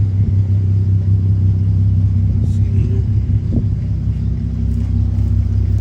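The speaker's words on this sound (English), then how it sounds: "this car just sounds like a beast with these VR6s" A deep, steady VR6 engine idle from a Volkswagen Golf MKV R32 rumbles loudly and close, with a faint mechanical tick partway through.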